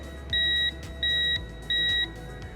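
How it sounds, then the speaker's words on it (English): A digital torque wrench tightening a tool holder gives three loud, evenly spaced electronic beeps, each lasting about a third of a second, over low background hum. "they'll give you an actual audible beep or feedback on when you're at that proper"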